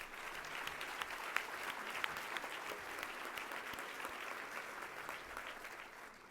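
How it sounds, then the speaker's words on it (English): An audience at a women's luncheon gives a sustained round of applause, steady dense clapping from a sizeable crowd that tapers off slightly toward the end. "we should all just give them a round of applause."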